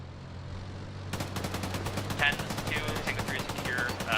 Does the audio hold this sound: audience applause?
no